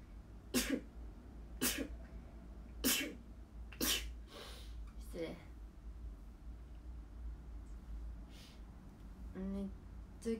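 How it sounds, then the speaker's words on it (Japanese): A series of sharp, sudden sneeze-like bursts, about five in quick succession over several seconds, followed by breathy sounds and a low steady hum underneath. "くしゃみでそう。"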